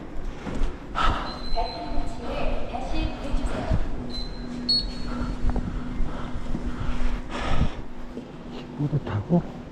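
Inside a moving Seoul subway train, the car gives a steady rumble with squealing wheels and rattling, close and continuous, while people talk faintly over it.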